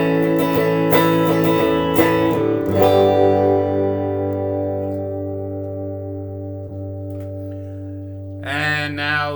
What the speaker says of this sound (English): And this one here is the spring reverb.